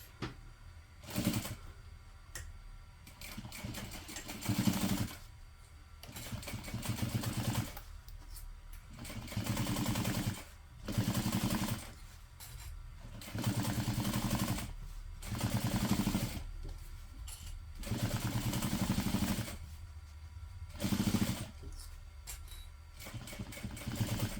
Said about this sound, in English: we're going to sew this together using a 1/2 inch seam allowance